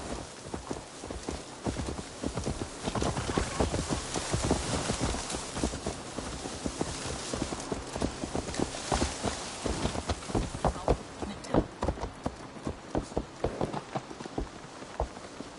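A horse's hooves clip-clop at a walking pace in Assassin's Creed, a steady run of light hoof strikes heard alone at moderate loudness, with soft ambient noise underneath.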